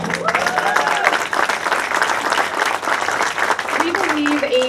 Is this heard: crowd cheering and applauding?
yes